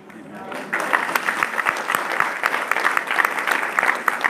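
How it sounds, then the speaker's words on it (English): A church congregation in Sydney applauds in a sustained burst of many hands clapping, fairly close and even in loudness, with no talk over it. "So for this you clap and all the truths I give you never clap."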